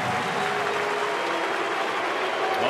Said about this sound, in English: Now here comes the crowd